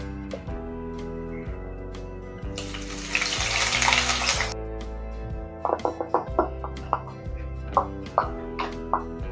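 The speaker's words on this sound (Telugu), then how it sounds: "ఉల్లిపాయ వేస్తున్నాను" Onion dropped into hot oil in a pan for a spicy egg and potato curry gives a loud burst of sizzling lasting a couple of seconds, set against background music with some talking.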